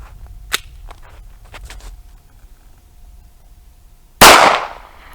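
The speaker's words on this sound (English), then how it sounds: "This is a Kel-Tec PMR 30 and 22 Magnum." A Kel-Tec PMR 30 .22 Magnum pistol fires a single loud, sharp shot at a brick block. A few faint clicks come before it, and a short echoing tail follows.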